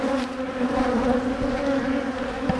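Steady, dense buzzing of honey bees swarming around a hive and a small starter hive at feeding time, a close, continuous drone with no talk.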